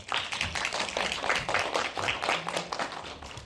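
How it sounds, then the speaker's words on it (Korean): A film festival audience claps loudly and steadily at a screening Q&A in Seoul, the dense applause continuing without pause throughout. "큰 박수 쳐주시면 감사하겠습니다"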